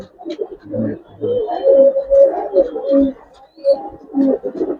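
Gribaz coloring pigeons in a loft coo repeatedly and close by, with soft rolling calls rising and falling in overlapping phrases.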